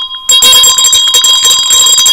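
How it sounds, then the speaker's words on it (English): A bell rings sharply and keeps sounding in a bright, ringing tone, loud and close, alone after a brief silent start. "Who chose this bell?"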